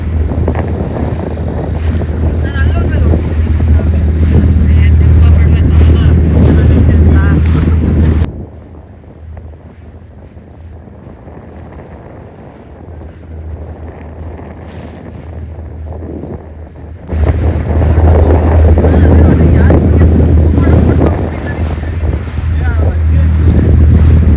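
Loud low motorboat engine drone on a lake with heavy wind buffeting, light rain and water noise, easing to a quieter stretch midway before the roaring engine and wind return.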